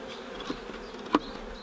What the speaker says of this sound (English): You'll notice there are some bees still in this box